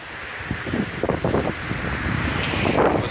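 Steady gusty wind buffeting the microphone outdoors, a continuous broadband roar with a few louder surges.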